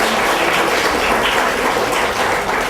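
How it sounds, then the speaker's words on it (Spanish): Applause from an audience at an academic talk on research into gender violence, a dense steady wash of many hands clapping at moderate loudness throughout, with no voices. "Un aplauso para ella."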